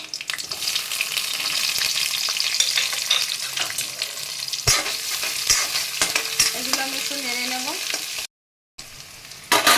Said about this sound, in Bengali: এবার আমি তেলের মধ্যে কিছুটা জিরে দিয়ে দিলাম কিছুটা রসুন কুচি দিয়ে দিচ্ছি কিছুটা পেঁয়াজ কুচো